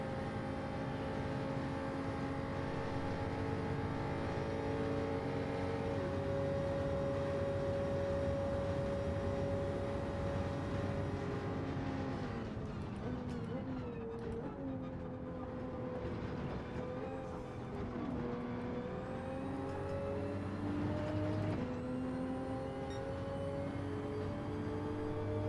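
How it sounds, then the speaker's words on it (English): Jaguar race car screaming down a straight in a racing video game, a steady high engine drone with sustained harmonics that rises in pitch twice, loud and continuous throughout with no talking. "look at this Jag, how fast this Jag is in a straight line"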